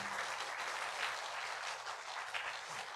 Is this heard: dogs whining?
no